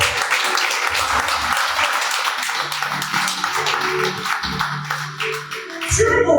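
A church congregation applauds loudly during a French-language sermon, a dense, sustained clatter of many hands with a voice partly audible beneath it.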